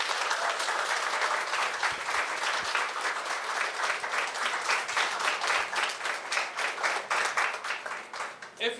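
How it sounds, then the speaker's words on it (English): Students of Ensafe Institute applaud at a school assembly for a relief fund, a dense, steady round of clapping that carries on for the whole stretch, with a little background chatter under it. "Give yourself a huge round of applause."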